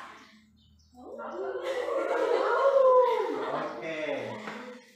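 Children in a classroom call out a drawn-out wolf howl together, a rising and falling vocal imitation of a wolf lasting a few seconds, moderately loud with a brief quieter lead-in.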